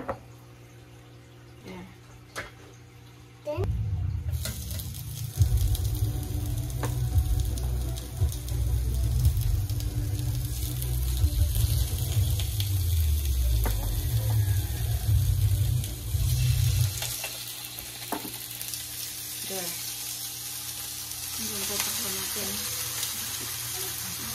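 Food frying in a hot pan sprayed with oil, starting with quiet clatter before a loud rushing hiss and sizzle sets in and runs steadily through most of the stretch, easing into lighter crackles and background noise near the end.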